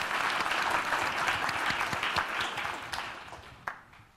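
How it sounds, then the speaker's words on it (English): Applause from a conference audience at the close of a Visual Studio 2017 C++ session, dense, steady clapping filling the space before tapering off with a few last claps near the end. "Please, everybody, give them a hand of applause."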